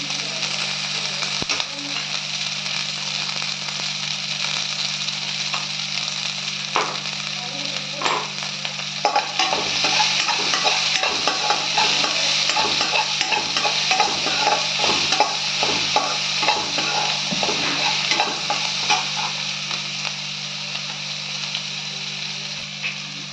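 Onions with salt sauté in a pan for coriander rice: a long, even sizzle and crackle that grows busier midway, with frequent scraping and tapping as a spatula stirs, close and continuous without speech.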